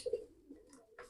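A caged songbird of the type kept for singing contests gives soft, low cooing calls, a couple of short notes at the start and a brighter call near the end, faint and fairly distant in a quiet setting.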